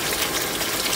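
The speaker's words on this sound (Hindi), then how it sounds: "अब मैं इसके अंदर पानी डालने लगी हूँ ग्रेवी के लिए" Boiled water pours steadily into a pan of Punjabi chicken gravy, a continuous loud rushing splash with no pauses and no voices.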